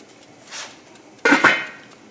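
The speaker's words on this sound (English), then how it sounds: "Put a lid on it." A metal lid set onto a cooking pot of black beans with potatoes and ham, landing as two close, sharp clanks near the mic after a soft rustle, with no talking.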